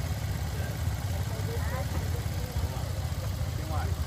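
Motorcycle engine idling steadily during a DETRAN motorcycle licence exam, heard outdoors at a constant low rumble while someone talks over it.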